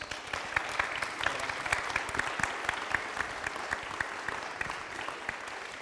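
Audience applause at a live show, steady dense clapping from a crowd heard at a moderate distance, continuous throughout with no voices on top.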